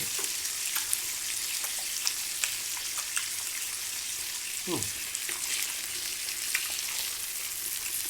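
Pork belly frying in oil in a pan, a soft continuous sizzle with scattered crackles and pops at moderate distance, faint and steady throughout.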